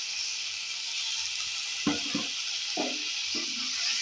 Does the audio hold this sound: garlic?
yes